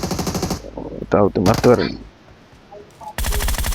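Rapid bursts of automatic gunfire in the PUBG mobile game on a tablet, loud and close, opening and closing the stretch, with someone talking excitedly between them.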